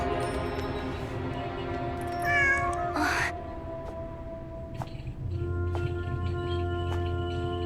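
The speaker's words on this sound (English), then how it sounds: "Oh, a cat." During a Genshin Impact cutscene a cat gives a short, clear meow over soft game music and ambient tones, with a brief rustle after it and no talking.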